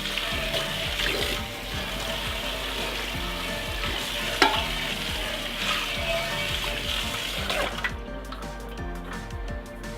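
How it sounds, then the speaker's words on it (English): Hot water rushes and splashes steadily through a hookah part while it is being cleaned, a close, continuous gurgling flow that cuts off near the end. "then just flush off with some hot water"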